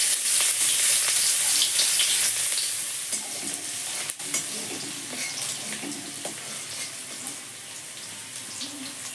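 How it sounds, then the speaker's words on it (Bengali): A whole bulb of crushed garlic fries in hot oil for a lentil dish, giving a continuous close sizzle with a few stirring clicks. The sizzle fades slightly toward the end. "রসুন ভাজা হয়ে গেছে, এবার আমি ডালটা দিয়ে দেব।"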